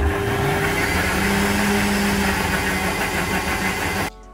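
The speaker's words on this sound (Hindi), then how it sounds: "बहुत अच्छे से इन सबको हम ब्लेंड करेंगे." A blender whirs loudly and continuously while blending pineapple slices, half an apple, oats and water, running steadily for about four seconds before cutting off abruptly.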